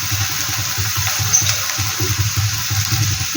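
Water runs into a metal spice bowl as it is rinsed in a kitchen while fish curry is cooked, a steady close splashing and trickling that continues throughout with faint clatter.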